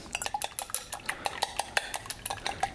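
Egg being beaten in a bowl with a utensil for an apple pie egg wash, a quick steady run of light clinking strokes against the bowl, close and distinct with no voice over it.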